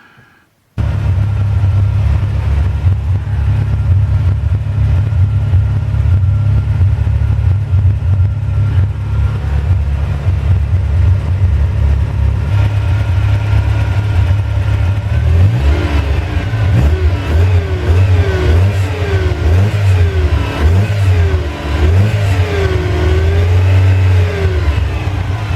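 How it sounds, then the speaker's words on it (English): A Ferrari 308GT4 engine fires up and settles into a loud, steady idle up close, then revs up and down repeatedly in quick blips over the last ten seconds. "next thing will be to start the engine and circulate the water a little bit"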